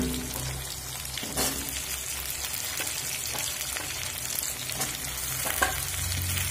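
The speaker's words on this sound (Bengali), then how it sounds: "আবারও 2 থেকে 3 মিনিট মিডিয়াম ফ্লেমে ভেজে নেব" Potatoes and flat beans fry with onion in a pan over a medium flame, giving a steady, close sizzle with occasional stirring scrapes and no speech.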